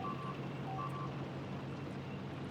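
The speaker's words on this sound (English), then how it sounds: "I hate the beeping sound." Short electronic beeps sound in quick succession early on in Factorio gameplay, set against a constant low droning background of machinery and game ambience.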